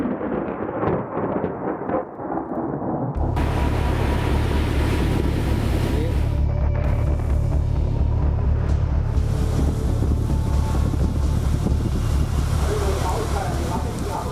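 Strong wind and high sea waves from Cyclone Tauktae lash the coast, a loud, continuous roar of gusts and crashing surf with heavy rumbling, after a brief stretch of talk at the start.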